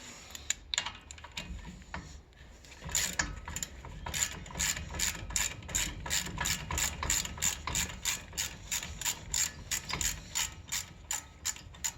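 A ratchet clicks rapidly as a brake caliper bolt is loosened on a 2011-2018 Volvo S60/V60, the close, sharp pawl ticks coming in quick rhythmic runs with a few short pauses.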